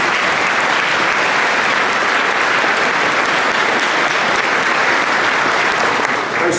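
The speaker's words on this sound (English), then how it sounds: "Let's give all of them a round of applause." Loud, sustained audience applause at a 2019 graduation ceremony for the student musicians, many hands clapping in a thick, even wash that stays steady throughout.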